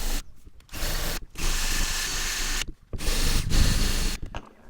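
A rotating cleaning wheel scrubs the aluminum top of a rooftop tent in three sustained, gritty bursts separated by brief pauses, close and fairly loud.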